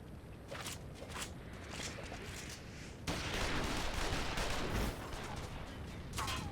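Gunfire rattles in a Final Fantasy XIV battle, with dense, rapid shots and crackling bursts that swell louder halfway through and hold over a busy background.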